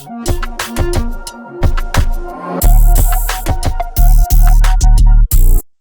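A producer's beat with 808s, kick and drums carries a dropped-in phrase sample, loud and dense, with rhythmic hits and heavy booming low-end bursts in the second half, no talk.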